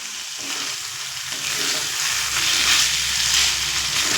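Mung dal and banana stem cook in a pan over a medium flame, a steady loud sizzle and bubbling hiss that swells slightly and holds throughout, with no voices.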